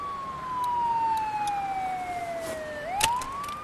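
A police-style siren in the video game The Walking Dead: 400 Days wails steadily, its pitch sliding slowly down before sweeping back up near the end, with faint background noises mixed in.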